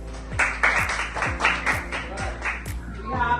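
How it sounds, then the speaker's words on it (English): A class of students claps together in a quick, fairly even rhythm, several bright bursts of group applause in a classroom, close and moderately loud, with no talking over it. "Give him a clap."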